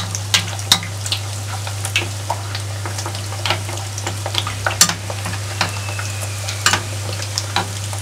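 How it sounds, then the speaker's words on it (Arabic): Rghaif flatbreads frying in hot oil with oil spooned over them, a continuous crackling sizzle dotted with sharp pops and spatters over a steady low hum. "انا سنقلي الرغيفات ديالي سنخوي عليهم هكا الزيت كما تشوفوا"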